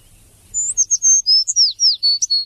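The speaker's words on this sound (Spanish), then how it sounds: "cuentan todos los años los pájaros de Chernóbil según unas estrictas reglas ornitológicas" Birds in the Chernobyl forest sing a quick, clear run of high chirps and whistled notes, close and bright against a quiet background.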